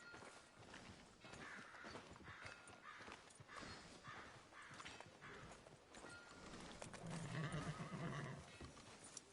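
A horse in the video game Red Dead Redemption 2 whinnies several times in a town street, with clip-clopping hooves and footsteps throughout, ending in a louder, longer neigh, all fairly close with no talking.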